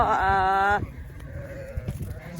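Sheep and lambs bleat on an Australian farm during vaccination and ear-tagging, one loud, wavering bleat lasting under a second, then fainter, more distant bleats and farm noise.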